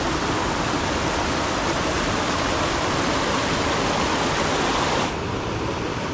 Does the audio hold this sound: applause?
no